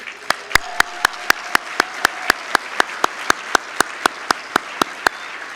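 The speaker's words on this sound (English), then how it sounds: "Please join me in a round of applause for their exceptional work." Single pair of hands clapping at a steady, even pace at a Port of Long Beach State of the Port event, about twenty sharp close claps in a row over faint room tone.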